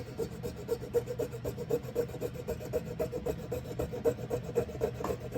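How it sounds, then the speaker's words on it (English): A small hand saw cutting in steady, rhythmic back-and-forth rasping strokes, close and fairly quiet, with no talk. "what I like about this little saw is it cuts a pretty straight line once you get it started."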